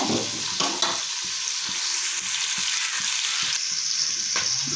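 Onions sizzle and crackle steadily in a hot pan for green chilli country chicken biryani, with occasional scraping stirs cutting through the frying.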